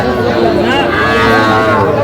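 Young bull calves and Sahiwal heifers low and moo at a busy cattle market in Dinajpur, a short close call over a steady background of crowd chatter.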